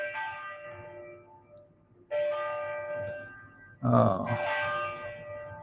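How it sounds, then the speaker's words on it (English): Church bells ring in the background, sounding as sustained tonal peals in a few separate strikes that fade between hits, with a brief exclamation from a man near the end. "I got some bells ringing in the background here"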